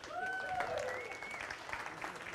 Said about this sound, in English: Just give her a round of applause.